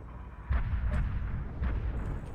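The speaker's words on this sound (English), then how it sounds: "So now I've got the plasma cannons." Plasma cannon fire from a mech in MechWarrior Online: several heavy, booming discharges in quick succession over a deep rumbling background, fairly loud and close.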